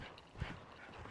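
Hooves of a ridden horse clip-clop at a riding stable, a few soft, fairly close thuds with one clearer hit amid low background noise.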